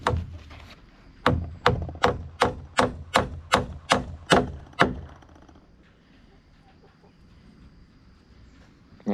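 Hammer blows driving nails into metal joist hangers on a cabin porch floor frame: about ten sharp, evenly spaced strikes in a quick rhythm, loud and close, then quiet room tone.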